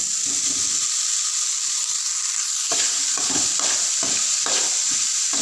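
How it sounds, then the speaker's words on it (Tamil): Cooked rice for coconut rice is stirred in a pan, a constant frying hiss under a run of rhythmic scraping strokes that grows busier partway through. "இப்போ நல்லா கிண்டி விட்டுக்கலாம்"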